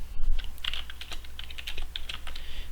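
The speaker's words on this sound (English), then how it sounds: "If I type now, okay, git status" Rapid typing on a computer keyboard, a close, steady run of crisp key clicks entering a short command, with no voices.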